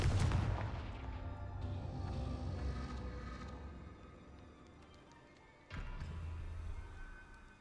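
Confringo spell cast in the game Hogwarts Legacy, a sharp fiery blast up front that decays into a fading rumble, then a second explosive burst that rings on briefly.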